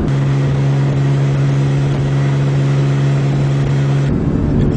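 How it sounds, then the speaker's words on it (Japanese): Inside a car cruising in third gear at 3000 rpm, fitted with an HKS Super Turbo muffler: a steady, loud engine drone blends with continuous road noise, unbroken and with no talking. "この回転域では聞こえてくる音といったら、まあ、マフラーの音よりもエンジンから来るエンジンノイズやロードノイズの方が大きくなります。"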